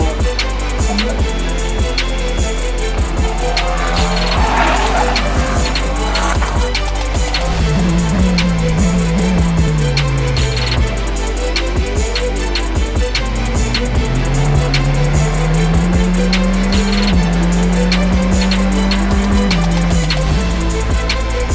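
Formula 4 race cars battle on the Brno circuit, engines whining up and down in pitch as they shift through gears, loud and continuous with clicks and clatter over a constant low rumble.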